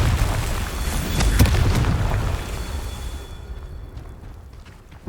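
A Confringo blasting spell explodes in Hogwarts Legacy, a loud booming blast with a sharp burst near the start, then a rumbling decay that fades over several seconds.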